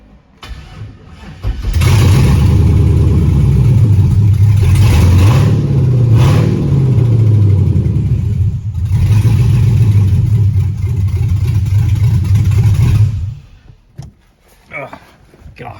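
A Jeep ZJ that had sat dead with a failed fuel pump cranks and starts, then its loud engine is blipped lightly at the throttle several times, rising and falling at close range before cutting off near the end.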